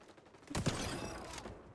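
Gunfire in the shooter XDefiant: a short burst of shots with a sharp onset, ringing on briefly before fading, fairly quiet and alone.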